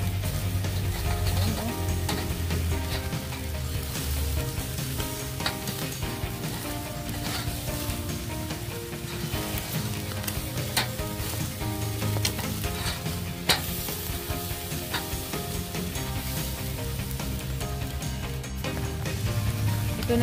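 Grilled meat basted with sauce sizzles and crackles steadily while being flipped on the grill. The hiss stays dense and constant, close and fairly loud, with occasional small pops and no voices.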